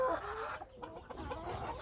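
Chickens, Chinese Silkie fowl, clucking inside a poultry house: a short burst of close, busy clucks and murmurs with no talking.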